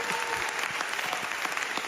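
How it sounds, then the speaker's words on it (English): A round of applause, brief and fairly faint, with a small group clapping steadily and quickly. "Let's do the round of applause"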